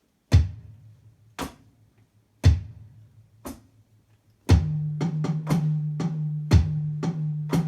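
On a drum kit, four sparse, booming hits played with the feet only, then a busier groove of kick and snare joined by cymbal and hand strokes, played loud and close with no talking.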